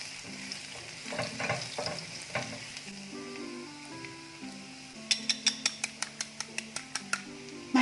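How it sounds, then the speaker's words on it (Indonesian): Steady sizzling of garlic sautéing in hot oil, with a run of quick, regular metallic clinks near the end as a utensil strikes the pan. "Tumis bawang putih sampai harum."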